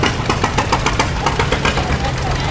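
A two-cylinder tractor engine runs close by with a rapid, even put-put beat and slight popping, loud and rhythmic through the whole stretch, with a voice talking over it.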